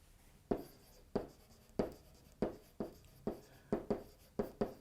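Marker or chalk strokes on a board come as about ten sharp, close scratches in an uneven rhythm, with no talking over them.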